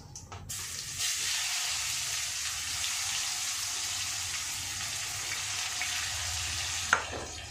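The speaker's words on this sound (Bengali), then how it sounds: "আমার ফোড়নটা ভাজা হয়ে গেছে। এবার আমি পেঁয়াজটা দিয়ে দেবো।" Onion pieces frying in hot oil over a tempering of bay leaf and cumin for muri ghonto, giving a steady, close sizzle throughout with one brief clink near the end.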